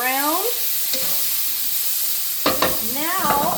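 Steak bites and soft Yukon Gold potatoes sizzle steadily in a hot pan, with a couple of close scraping stirs of the utensil breaking through the constant frying hiss; no talking.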